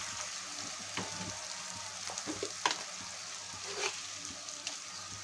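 Onion and potato pieces with eggs added frying in a pan for an egg and potato curry, giving a continuous soft sizzle with occasional crackles and light stirring scrapes, steady and close.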